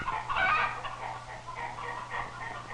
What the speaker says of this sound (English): Grandfather keeps a large flock of chickens.